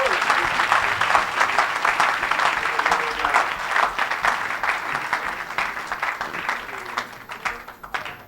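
A church congregation bursts into sustained, dense applause during a French-language service, loud and continuous for several seconds before thinning slightly toward the end.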